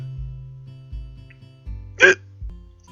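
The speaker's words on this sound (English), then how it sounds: "worst time to have hiccups" Hiccups from a person, one sharp, loud hiccup standing out over a low steady hum, with softer gulping onsets repeating at a regular rhythm around it.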